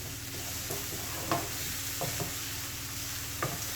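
Onions and garlic soften in olive oil in a pan, a steady sizzle running throughout, with occasional soft clicks of a utensil stirring them around.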